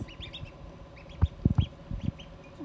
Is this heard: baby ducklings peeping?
yes